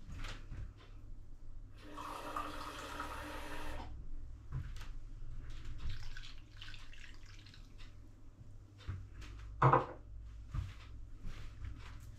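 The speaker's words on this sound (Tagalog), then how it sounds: "lagay tayo ng tubig." Water runs from a kitchen tap into a cooking pot as a meal is prepared, a steady splashing stream for a couple of seconds amid quiet clinks and handling noises.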